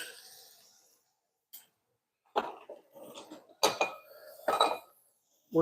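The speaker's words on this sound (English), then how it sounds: "I'm going to cook with 2 pans at once." Cooking pans and utensils clinking on a stovetop while garlic and langostino tails cook for a ravioli lunch, several sharp clanks and scrapes in bursts separated by short pauses.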